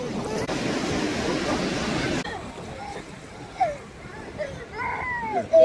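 Sea waves wash in at a beach during a children's outing, a broad steady surf rush with wind noise for the first two seconds, then a quieter wash with voices and kids' calls over it.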